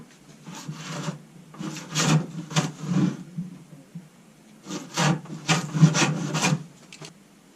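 A blade for working recycled hardwood is sharpened with repeated rasping strokes in two bursts, each a rhythmic run of close, scratchy rubs separated by a brief pause.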